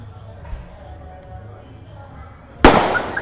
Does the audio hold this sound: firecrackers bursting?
yes